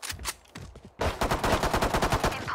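Rapid automatic gunfire from a Valorant match, a short burst then a sustained volley of close, loud shots firing in quick succession.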